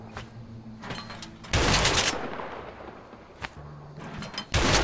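Gunfire in the A Way Out video game as shots hit empty houses: loud, abrupt blasts with booming, rumbling tails, a few seconds apart, over quiet game ambience with no talking.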